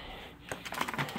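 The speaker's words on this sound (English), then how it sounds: "That's a keyboard." Rapid, light keystrokes clatter close by on a small Kano kit computer keyboard after a brief quiet start, in an uneven run of clicks.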